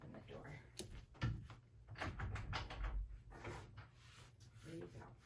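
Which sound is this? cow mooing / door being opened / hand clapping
door being opened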